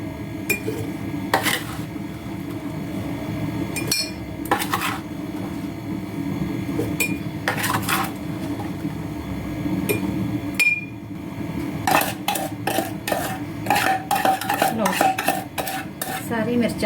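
Green chilli pickle being spooned into a container, with repeated metallic clinks and scrapes of a spoon against the jar and vessel, sharp knocks scattered over a steady low background hum.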